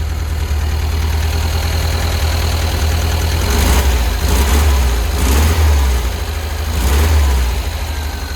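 A fuel-injected air-cooled engine in a 1971 Volkswagen Squareback idles steadily up close, a loud low rumble with a few gentle rises in revs and a slight knocking edge, no talking.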